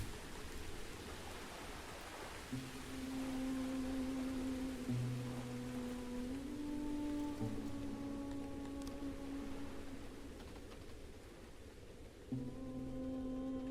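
Rain falls in the city-building game Songs of Syx as a soft steady hiss, accompanied by sustained tonal music notes that shift in pitch, quiet and without talk.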